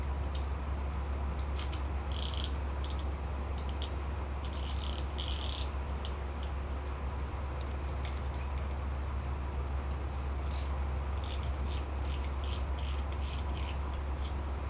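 A spinning fishing reel winds line onto its spool, giving bursts of bright ratcheting clicks that come and go over a steady low hum.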